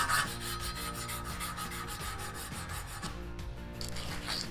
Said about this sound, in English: If I rip the emery cloth in half, then I can get right in here.